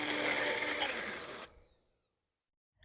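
Countertop blender whirring loudly as it purees garlic for a salve, a steady high motor drone that cuts off abruptly and winds down into silence, with a faint click at the end.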